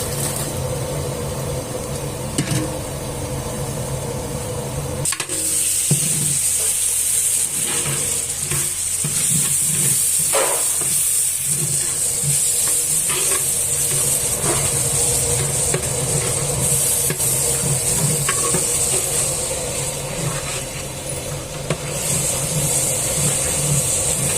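Chopped tomatoes sauté with ginger garlic paste in a pan for vegetable biryani, producing a loud, continuous hissing sizzle close up, with occasional stirring scrapes throughout.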